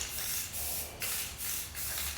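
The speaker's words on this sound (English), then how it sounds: "The can is starting to sputter, and I'm just getting to the end of this first nice wet coat." A spray paint can lays a wet coat on a vintage Honda CB350/CL350 motorcycle frame, sending out several close, loud hissing bursts with short pauses between them as the nearly empty can sputters.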